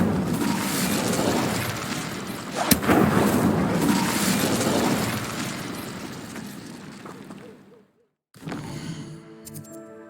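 A fire spell in Hogwarts Legacy bursts out with a sharp crack followed by a loud, sustained roaring whoosh of flames that fades away, then a brief quieter tail of game effects.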